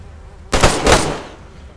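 A gunshot burst in the video game DayZ, two sharp overlapping cracks half a second in with a rolling echo trailing off, loud and alone with no talk.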